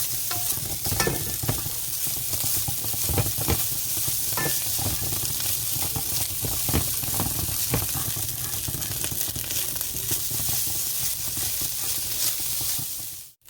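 Egg scrambles beside rice in a hot pan for American-style Chinese fried rice. A loud, steady sizzle runs close throughout, broken by repeated scraping stirs, with no voices.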